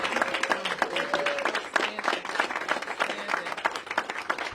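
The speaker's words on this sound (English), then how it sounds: "Give her a big round of applause." Audience applause at a Washington, DC mayoral announcement event, a steady patter of many hands clapping continuously with a few faint voices mixed in.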